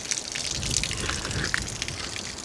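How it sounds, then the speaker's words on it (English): Water runs from a tap in Armenia, a continuous close splashing gush with small drips and spatters breaking through the steady flow. "All those tap water things, you can just drink from them"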